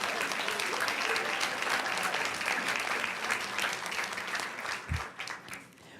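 Audience applause at a school board meeting, a steady wash of many hands clapping that holds for several seconds, then thins and fades out near the end.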